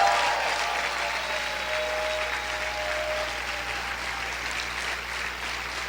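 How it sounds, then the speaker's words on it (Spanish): A church congregation claps loudly and continuously for several seconds, a dense wash of applause that fades only slightly toward the end, with no talking over it. "Aplaude fuerte al Señor en esta hora"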